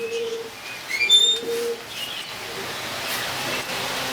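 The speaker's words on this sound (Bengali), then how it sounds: "আজকে ঈদের দিন, তারপরেও আমার কোয়েল পাখি অনেকগুলো বাচ্চা ফুটছে।" Newly hatched quail chicks peep in short, high, thin chirps, scattered and irregular over a faint steady background hiss, close by.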